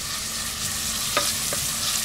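Onions cooking down in a pan, an even close sizzle broken by two clear scrapes of a wooden spoon stirring, no talking.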